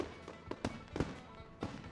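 Fireworks bursting at a minor-league baseball stadium after a Friday home game, heard as several sharp popping cracks scattered over two seconds, moderately distant, over a noisy crowd-like background.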